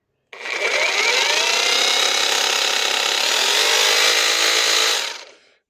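A Parkside Performance X20V cordless jigsaw, under repair for a fault, runs steadily for about five seconds with a loud, close whining buzz, then winds down to silence.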